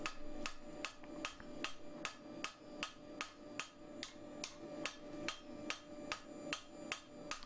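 Steady, evenly spaced hammer blows ring out on a metal lantern bracket being shaped into the corner of an anvil, about two strikes per second, close and sharp, with a bright metallic ring and no talking.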